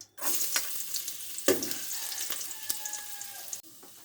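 Ginger hits a little hot cooking oil and sizzles, a loud, crackling hiss that starts suddenly, holds steady with a few pops, then drops away, with no talking.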